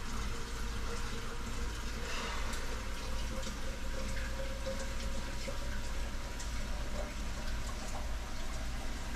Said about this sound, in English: I'm going to fill this up with somewhat hot water